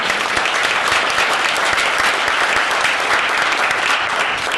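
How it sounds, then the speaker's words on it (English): An audience at a leadership event applauds steadily, dense clapping from many hands sustained at even loudness throughout. "so give her applause"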